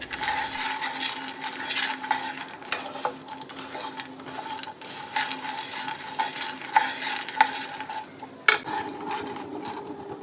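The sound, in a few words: stirring dry fruits while lightly roasting in pan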